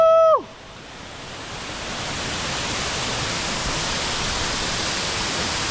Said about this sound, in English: What a nice waterfall.